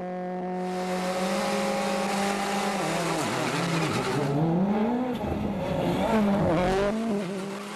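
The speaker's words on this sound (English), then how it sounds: "Back on the start line, Ford's Petter Solberg" A Ford WRC rally car launches from the start line of a tarmac rally stage through vineyards, its engine revving hard and climbing through the gears with loud, sweeping pitch changes and a hint of tire squeal, heard alone without talk.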